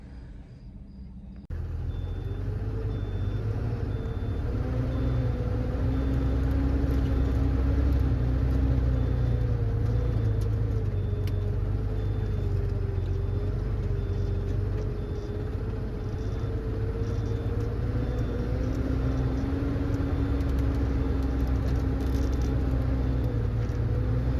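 A vehicle travels along a highway between Gujarat and Bangalore, its steady close engine rumble and road noise running continuously with slight shifts in pitch and no voices.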